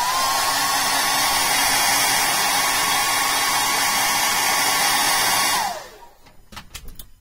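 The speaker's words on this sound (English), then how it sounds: "I'm going to hit this with a hairdryer real quick just to dry it down for a second." A handheld hair dryer blows on a painted Batman model build that has been sealed with Testors Dull Coat, giving a loud, steady whirring roar for almost six seconds before it switches off, followed by faint clatter.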